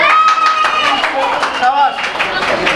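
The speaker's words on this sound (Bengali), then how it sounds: "স্যার আজকে জোরে হাততালি হবে, জোরে হাততালি হবে" Students at a school class party clap loudly in quick, dense rhythm, the crowd's hands rattling under voices that talk and call out over the applause.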